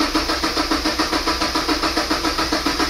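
A Mazda MX-5 NC engine cranks over with a steady, rhythmic starter churn, close and fairly loud, pulsing evenly for a few seconds without clearly catching.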